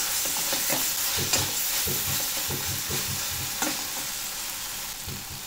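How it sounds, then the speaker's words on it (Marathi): Masala being roasted in oil for an elephant yam curry, a steady sizzle with rhythmic scraping stir strokes repeating about twice a second, close and alone without talk. "म्हणून हा पहिला मसाला चांगला तेलात भाजून व्यवस्थित तेल सुटेपर्यंत व्यवस्थित भाजून घ्यायचा."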